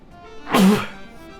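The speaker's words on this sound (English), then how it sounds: "Oh, I'm gonna sneeze." A single short, sharp human sneeze bursts out close to the microphone, rising quickly and fading within about half a second against a quiet background.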